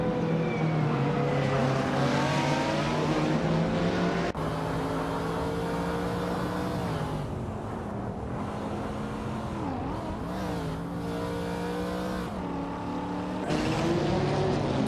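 A 1984 Porsche 962 long tail race car in a racing video game, its engine droning steadily with rising and falling pitch through gear changes, loud and close throughout with no talk.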